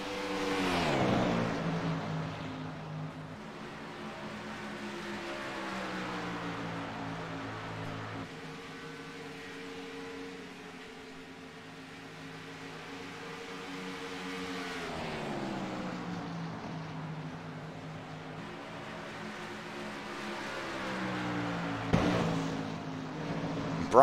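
Race cars running three wide in a racing video game, a steady, layered engine drone with rising and falling pitch as the cars pass together, fairly loud and continuous, ending with a brief sharp thump.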